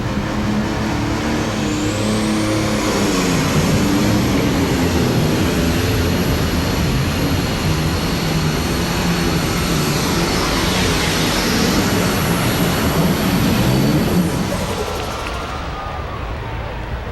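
A light super stock pulling tractor roaring down the track at an indoor arena pull in Louisville, a loud sustained high-revving engine scream that holds for about fourteen seconds, then drops off.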